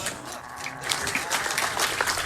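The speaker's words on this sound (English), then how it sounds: "we can clap for that" Audience applause at a Games Done Quick speedrun event during a Halo: Combat Evolved run, a dense burst of many hands clapping that builds and continues steadily, with voices faintly mixed in.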